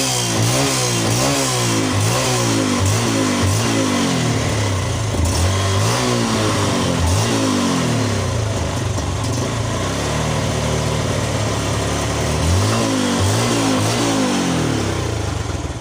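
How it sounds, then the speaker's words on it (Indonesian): A Yamaha Jupiter Z1 motorcycle engine runs up close with its regulator disconnected, a battery still fitted, and is revved repeatedly in rising and falling bursts over a steady idle. "Tanpa kiprok tapi ada aki, itu motor akan hidup normal."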